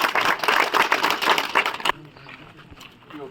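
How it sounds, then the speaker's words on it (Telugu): Brief burst of clapping from a group at a Telangana event where an MLA hands out Katamaiah safety kits, a dense patter of hands lasting about two seconds before falling away to quiet room noise. "ఓకే చప్పట్లు కొట్టు."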